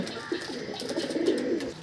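Pakistani teddy pigeons coo in soft, low, repeated notes close by in a home loft, forming a steady murmur throughout.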